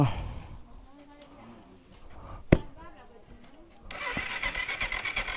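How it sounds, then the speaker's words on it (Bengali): A motorbike is kicked or cranked but fails to start, giving a sharp click and then a rapid pulsing churn near the end, with people talking close by throughout. "না, স্টার্ট নেবে না বাইকার"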